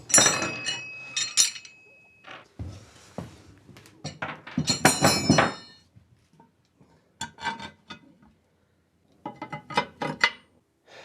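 Cast iron lawnmower chassis parts handled on a workbench during reassembly, a series of close metallic clinks, clanks and knocks in irregular bursts separated by quiet pauses.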